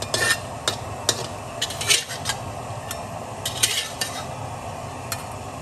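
Dried shrimp dry-roast in a pan with a steady scratchy rustle, while a utensil scrapes and clicks against the metal at an uneven pace, close and fairly loud.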